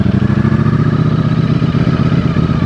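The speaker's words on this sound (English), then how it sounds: "You hear the sound when you put it into gear." A Ducati Streetfighter V4S motorcycle engine idles with a steady, close, throbbing pulse as it is put into gear, with a faint clunk-like clatter in a continuous low rumble and no talk.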